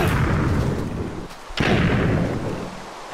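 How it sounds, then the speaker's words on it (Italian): Minecraft explosion, two loud booming blasts with rumbling tails, the second erupting sharply after a brief dip, heard alone without talk. "Oddio, hai visto che esplosione?"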